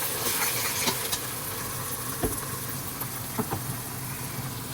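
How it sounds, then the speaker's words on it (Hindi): Ginger garlic paste frying with browning onions in a pan for palak paneer, a steady soft hiss with faint crackles and a few small clicks, close and continuous, no talking. "इसको अच्छी तरह फ्राई करेंगे."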